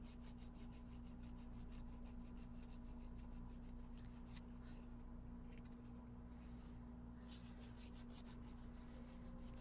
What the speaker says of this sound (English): I'm going to use an emery board because I don't know where I put all my files